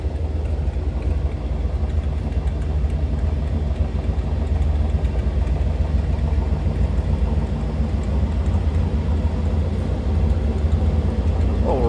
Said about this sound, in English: A deep throaty exhaust note.